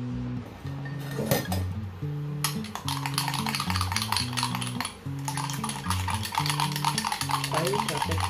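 A spoon stirs instant coffee with a little boiling water in a cup, making rapid, steady metallic clinks against the sides, close and bright, with a low hum of music or voices underneath throughout.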